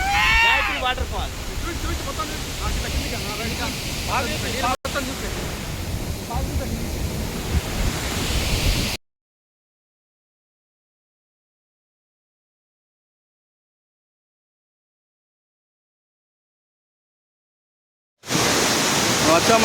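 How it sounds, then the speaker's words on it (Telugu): Rushing water at Gayatri Waterfall in Adilabad makes a steady, dense roar with wind buffeting the microphone. It runs loud for about nine seconds, drops to silence, then comes back at the end. "వచ్చామండి గాయత్రి వాటర్ ఫాల్"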